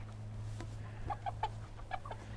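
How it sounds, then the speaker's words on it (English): Six-week-old Cornish Rock chickens on a Kentucky poultry farm clucking softly in short, scattered calls over a steady low hum, several birds close by, with no talking. "These are Cornish rock chickens, and these are 6 weeks old."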